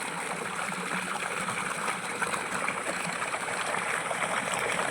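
Water flows steadily from a motor-driven farm pump outlet into a channel, a continuous near, gurgling rush without pause and no voices.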